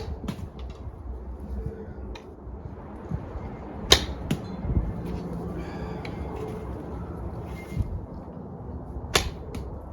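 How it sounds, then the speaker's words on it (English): Arrows loosed from a wooden board self bow, two sharp snapping releases standing out near four and nine seconds over steady outdoor wind noise, with a few fainter thuds between. "So I'm able to put some more arrows through this bow, try and get it shot in all the way."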